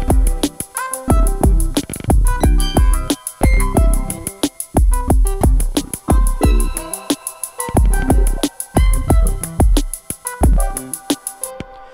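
A VCV Rack modular synth patch played through Ableton Live gives layered rhythmic tones with punchy low plucks and bright, sustained harmonic lines that pulse steadily throughout.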